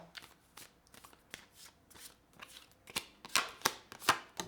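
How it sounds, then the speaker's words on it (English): Tarot cards are shuffled in a series of quick riffling snaps and soft slaps, growing sharper and louder toward the end. "Let's give it one more shuffle."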